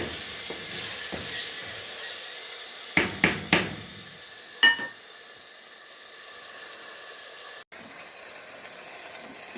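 Masala powder stirred through frying onion mixture in a pan for a liver fry, a steady low sizzle with several sharp scraping clinks of the spoon against the pan.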